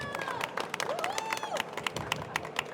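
Scattered, light clapping from a small group welcoming a chef, uneven bursts over a few seconds with a voice and a whistle-like tone mixed in.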